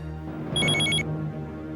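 A telephone rings in a home, with a brief bright electronic trill repeating several times for about half a second over a steady low background drone, with no voices.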